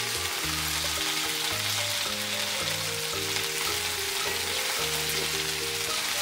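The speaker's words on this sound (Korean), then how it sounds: "꽈리고추와 볶아둔 단멸치를 넣고 볶아주세요." Shishito peppers and sweet dried anchovies stir-fry in a wok with a loud, constant sizzle and hiss. Background music plays underneath, and no one speaks.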